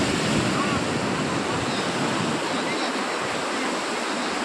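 Sea surf washing onto a shore where live belasi fish are being caught, a steady loud broadband wash of waves with wind buffeting the microphone throughout, no talk.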